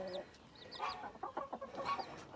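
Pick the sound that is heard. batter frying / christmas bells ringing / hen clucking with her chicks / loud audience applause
hen clucking with her chicks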